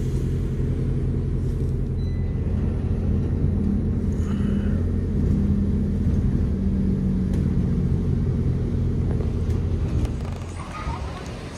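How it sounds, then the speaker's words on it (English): Deep, continuous rumble of planes coming in to land near Heath Road, Twickenham, a heavy low drone lasting about ten seconds before easing, heard from street level with faint traffic. "You can hear the planes coming in."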